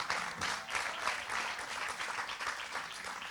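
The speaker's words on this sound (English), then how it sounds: "have a nice bit of a clap, you can do that" Audience clapping at the WZO UK Summer Party 2021, a steady, fairly soft patter of many hands that continues throughout without pause.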